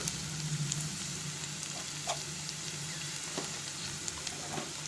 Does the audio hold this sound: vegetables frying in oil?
yes